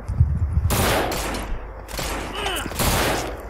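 Rapid bursts of gunfire in the zombie shooter game No More Room In Hell, loud and close, firing in clustered volleys with brief gaps between them.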